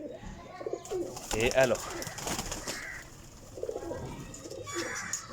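Pigeons of a Teddy breed coo and call softly at close range in a loft in Jhelum, Sarai Alamgir, mixed with someone talking over them throughout.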